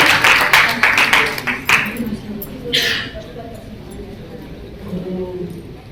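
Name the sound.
audience applause welcoming a poet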